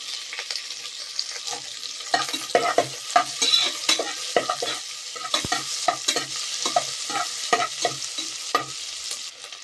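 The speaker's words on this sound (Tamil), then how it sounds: "கொஞ்சமாக கருவேப்பிலை போட்டுக்கலாம்." Curry leaves and green chillies hit hot oil for a potato and green peas curry, raising a close, crackling sizzle broken by frequent sharp spatters and stirring clicks, without talk.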